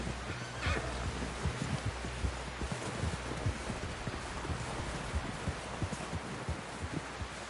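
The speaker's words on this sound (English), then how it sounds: "Someone help John down off this horse." A horse whinnies in Red Dead Redemption II, a brief neigh early on amid a dense, noisy game soundscape with steady low thumping throughout.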